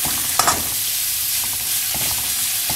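Shredded cabbage and carrot stir-frying in oil in a wok, giving a steady close sizzle with a couple of brief scraping stirs near the start and faint clicks later, no talking.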